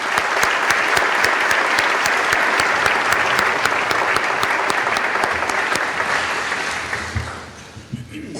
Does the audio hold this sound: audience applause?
yes